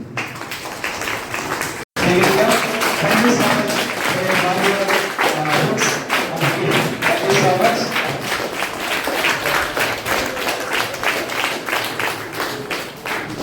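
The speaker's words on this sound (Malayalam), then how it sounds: "സലൂർ സാറിനെ നല്ല കൈയടിച്ച് നമുക്ക് സ്വാഗതം ചെയ്യാം" An audience at a government higher secondary school reading-week event applauds steadily to welcome a guest, a dense, loud wash of many hands clapping that carries on without pause after a brief opening moment.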